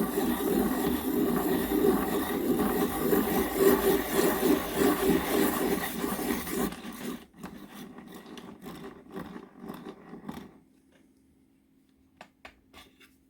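Deli wooden writing pencil ground in a Deli sharpener makes a close, continuous rasping shave for several seconds, then fades into scattered taps and a faint hum as it stops.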